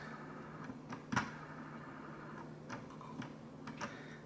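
A Logitech G604 wireless gaming mouse scroll wheel gives a few faint, sparse ratcheting clicks, one slightly sharper than the rest, in an otherwise quiet room.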